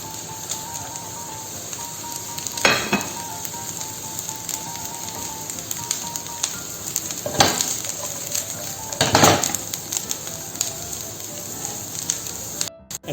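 Onion, chopped garlic and white mushrooms fry in a pan for a creamy chicken stroganoff, giving a steady close sizzle broken by a few louder stirring scrapes and clinks of a utensil against the pan.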